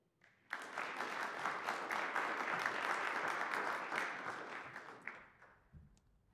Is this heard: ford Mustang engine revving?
no